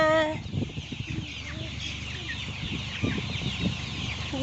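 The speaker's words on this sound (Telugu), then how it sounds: "చూడండి కోడిపిల్లలు" Chicks and hens cluck and peep in a village yard, a busy, continuous chorus of short chirps and clucks close by, with faint voices in the background.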